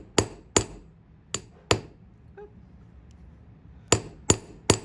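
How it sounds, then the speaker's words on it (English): Metal is hammered on an anvil during hand forging, with sharp, ringing blows falling in two pairs, a pause, then a quick run of three strikes, each close and clear over a quiet room. "if this is bulging out, I need to hammer more here, which is going to stretch it that way"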